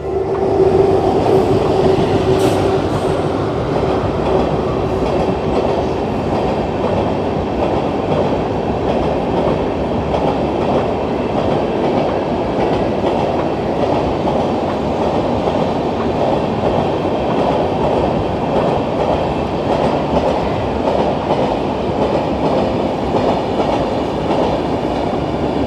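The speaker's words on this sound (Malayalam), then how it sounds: "ഇനി ഈ പാലത്തിലൂടെ ഒരു ട്രെയിൻ കടന്നു വരുന്ന കാഴ്ചകൾ" A train crossing a bridge in Kerala gives a long, loud, unbroken rumble with rhythmic clickety-clack of wheels over the rails, holding steady throughout.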